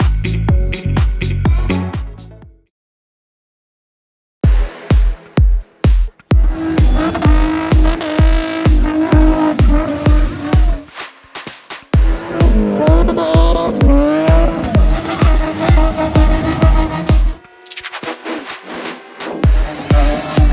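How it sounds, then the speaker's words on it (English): BMW cars doing tire-spinning burnouts at a BMW club gathering: loud revving engines and sustained tire squeal close by, broken by a brief silence, then several long screeching runs with engine roar. "I'm asking Bernard from BMW Car Club to come join us in spinning"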